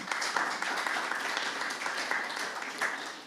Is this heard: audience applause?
yes